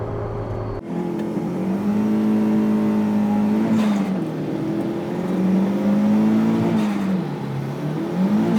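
A Mazda MX5 sports car accelerating hard while racing, its engine note climbing steadily through the revs with brief dips at gear changes, loud and close with a sustained whirring drone.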